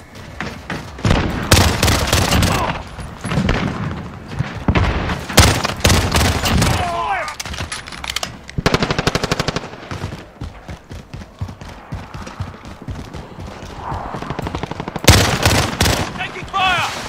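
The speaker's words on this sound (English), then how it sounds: "Taking fire!" Machine gun fire in the Call of Duty Modern Warfare multiplayer game, repeated rapid bursts and single shots in irregular clusters, loud and close, with brief voices between them.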